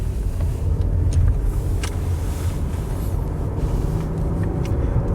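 A 30-year-old Lexus car driving, with a steady low engine and road rumble close by and continuous throughout, with a few brief higher clicks over the drone.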